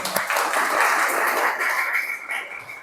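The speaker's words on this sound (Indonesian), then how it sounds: "Tepuk tangan." Applause fills a vocational school classroom after a group presentation, a dense patter of many hands clapping for a few seconds before tapering off.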